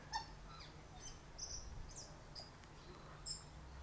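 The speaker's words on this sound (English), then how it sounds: "Oh, listen to the tui." A tui calls from the trees overhead in a suburban park in Ponsonby, New Zealand, giving a few short, sharp whistles and chirps over a faint steady background hum.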